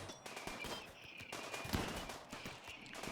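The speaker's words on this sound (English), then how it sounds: "Ah, the turrets are shooting you" Automated turrets in a video game fire rapid bursts of gunfire, a quick irregular string of sharp cracks, fairly quiet and continuous over a few seconds without talk.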